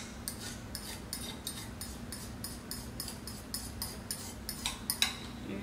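A spoon scrapes an avocado mixture into a plastic sandwich bag pulled over a glass, giving a steady run of light, regular clinks and scrapes, close and fairly quiet.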